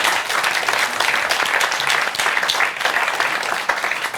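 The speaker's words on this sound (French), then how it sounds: "on peut les applaudir." Steady applause from an audience at a French game-show contest, dense, even clapping throughout with no break.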